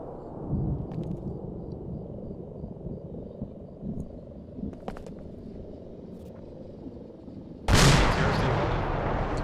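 A tank fires a shot in a realism military video game, a loud sudden blast late in the clip after a stretch of low engine rumble and distant small pops.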